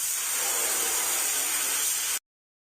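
A spray gun paints a police car in a kids' video game, producing a steady, bright hiss that runs for about two seconds and then cuts off abruptly.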